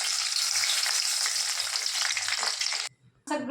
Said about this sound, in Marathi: आता आपण मिरच्या तळूया.